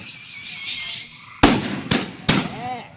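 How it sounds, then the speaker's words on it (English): Fireworks bursting some distance away in an outdoor setting, three sharp cracking bangs about half a second apart after a quieter stretch, with a faint voice underneath. "They throw fireworks at us."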